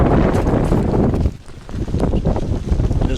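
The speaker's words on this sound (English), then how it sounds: "There's gales scudding across the north of Scotland today." Gale-force wind buffeting a microphone on the north coast of Scotland in midsummer, a loud, rough roar that dips briefly and then surges back in heavy gusts.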